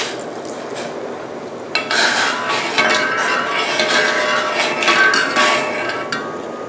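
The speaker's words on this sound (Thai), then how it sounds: "คนให้เข้ากันนะคะ" A utensil stirs dashi soup seasoned with mirin and soy sauce in a pot, giving soft repeated scraping clinks against the metal over a steady bubbling background, close and fairly loud.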